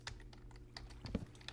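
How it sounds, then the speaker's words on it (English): Clicks from a computer keyboard or mouse during a PC game, a few sparse taps over a low steady background hum, close but faint, with no talking. "I know you can hear my clicking."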